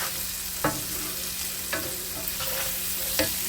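Onion sautés in a pan for Thanksgiving dressing, a steady frying hiss with three distinct scrapes of a utensil stirring it, heard close up without speech.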